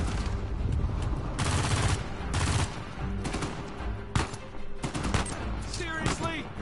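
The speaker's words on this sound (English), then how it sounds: "Machine gun, come on!" Machine gun fire in the video game Uncharted 4, loud repeated bursts of automatic shots spread across the clip, with a voice shouting over them.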